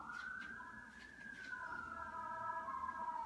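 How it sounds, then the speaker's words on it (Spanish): Faint ambulance sirens wail in the distance, two rising and falling tones overlapping as they pass, quiet against a low background hum. "Están pasando bastantes ambulancias. Se escuchan."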